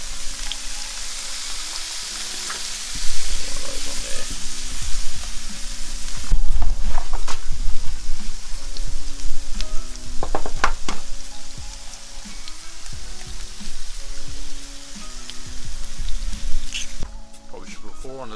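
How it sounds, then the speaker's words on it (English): Bacon sizzles and spits in a pan on a dual camping burner, a loud, continuous crackle with bursts of louder frying and occasional clinks, while someone talks over it. "It's important to cook the bacon before the eggs, because as you know, the bacon will take a little bit longer to get nice and brown."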